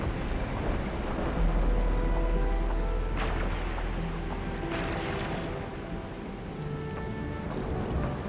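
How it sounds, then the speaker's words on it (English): Heavy rain pours steadily in the video game Arknights: Endfield, with low rolls of thunder rumbling beneath the dense downpour and a few sharper cracks, and no voices. "It's raining harder. I can't hear anything except for the rain."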